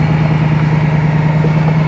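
A 2023 Ford F-150 Raptor R crawls along a trail on its own at 1 mph in four low with the rear differential locked, its engine a steady, loud low drone close by.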